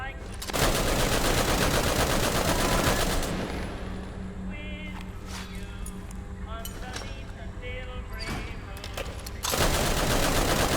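A shield-mounted light machine gun fires in a video game, rapid sustained bursts at the start and again at the end. A voice talks over the firing, with quieter game noise between the bursts.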